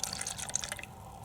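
Two-stroke oil poured into a fuel mixture gives a quiet, brief liquid trickle and splash lasting about a second, close by and alone.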